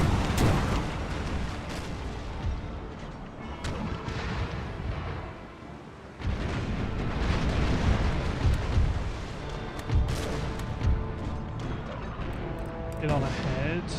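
Ship cannon fire during a naval battle in the game Empire: Total War, a dense, continuous barrage of booming shots and crashes, loud and sustained throughout, with a voice talking over it.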